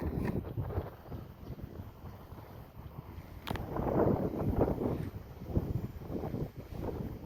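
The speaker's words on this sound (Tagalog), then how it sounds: "Mahangin." Gusty wind at Calomboyan, Pangasinan buffets the microphone in low, uneven rumbles that swell and fade, fairly quiet overall with no voices.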